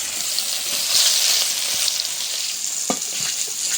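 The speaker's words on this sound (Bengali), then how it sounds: "মাছ ভাজা হয়ে গেছে উঠাইনি একদম মচমচো করে ভাজবো না" River fish frying in oil in a pan, a close, even hiss of sizzling fat with a few soft bubbling pops and faint stirring touches, no voices.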